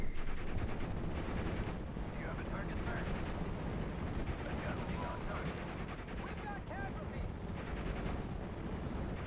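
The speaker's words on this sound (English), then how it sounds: "There's a fucking machine gun right there." A machine gun firing in the WWII strategy game Steel Division: Normandy 44, continuous dense rattling and distant blasts under battle ambience, with someone talking over it.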